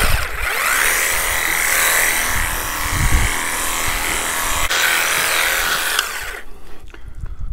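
Worx Hydroshot 20V cordless power cleaner with brush attachment running, a loud continuous motor whir with scrubbing texture and a few low bumps, cutting off abruptly near the end.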